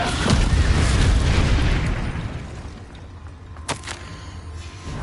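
A Confringo fire spell explosion in the video game Hogwarts Legacy bursts with a loud, deep boom that rumbles and fades, followed by a sharp crack of a second impact amid lingering crackle.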